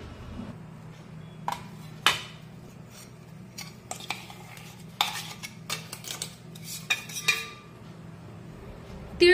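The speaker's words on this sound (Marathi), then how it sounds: "आता हे मिश्रण एका प्लेटीमध्ये काढून घेऊया।" A metal spoon scrapes and taps against a steel mixer jar and a plate while a finely ground sesame and coconut mix is scooped out, giving irregular close clinks and scrapes over a quiet hum.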